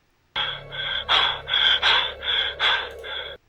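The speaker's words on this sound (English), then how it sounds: "I don't know what that weird breathing thing is." A weird, strained breathing noise repeats in a steady series of about eight raspy gasping pulses, loud and close, with no talk over it.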